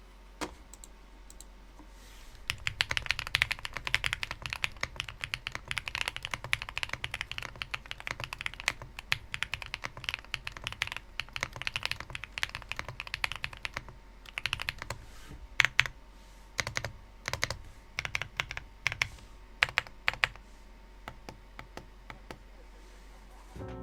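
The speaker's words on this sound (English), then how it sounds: "This keyboard is also using the Epomaker Wisteria key switches, a very nice feeling linear switch with a 39-gram force." Typing on an Epomaker P65 compact keyboard fitted with Epomaker Wisteria linear switches (39-gram force), a close, steady run of deep, thocky keystrokes with occasional louder clacks, heard alone without talk.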